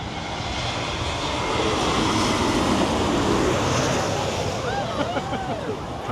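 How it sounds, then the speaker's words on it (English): A propeller airplane passes low overhead on its landing approach near a beach, a loud sustained engine drone that swells and then sweeps downward in pitch, with surf washing underneath and people talking nearby. "Here comes a plane."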